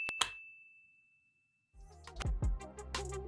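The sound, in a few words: bell ding sound effect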